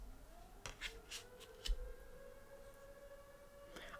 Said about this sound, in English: Let this siren finish.